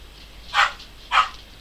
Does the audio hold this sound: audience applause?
no